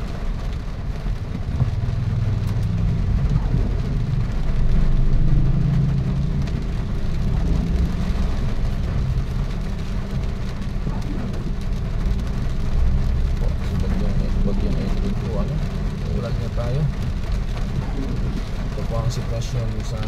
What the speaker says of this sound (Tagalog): Ito po, inuulan tayo dahil sa bagyong Enteng.